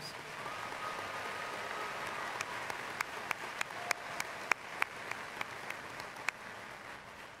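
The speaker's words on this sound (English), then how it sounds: "Let's have another round of applause for our magna cum laudes." A commencement audience applauds magna cum laude graduates, a soft, distant, steady patter of many hands with a few sharper nearby claps standing out in a regular rhythm toward the middle.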